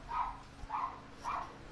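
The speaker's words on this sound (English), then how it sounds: "I do apologize for my dogs barking." Dogs barking in a home during video game play, three evenly spaced muffled barks at moderate distance, with no talk over them.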